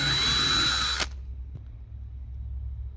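A power driver whirs steadily while backing shallow screws out of interior plastic trim on a Buick Grand National, then cuts off sharply and leaves a quiet room with one faint click.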